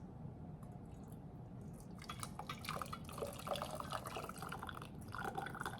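Roasted tomato basil soup drips and splashes wetly as it is ladled into canning jars, faint at first, then busier with soft sloshing and glassy clinks.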